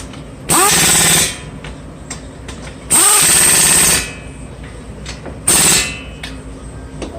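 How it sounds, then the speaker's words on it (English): A pneumatic impact wrench fires in three loud bursts, each about a second long, tightening a brake caliper on a Dodge Avenger front hub, with quieter garage noise between. "So now tighten up your caliper."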